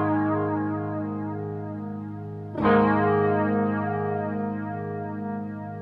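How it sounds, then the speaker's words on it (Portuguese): An electric guitar through a flanger set to a fast sweep: a sustained, shimmering chord whose tone swirls rapidly, then a second strum near the middle that rings on to the end, with no voices. "O speed vai determinar o quão rápido acontece essa oscilação de frequências que você escuta no flanger"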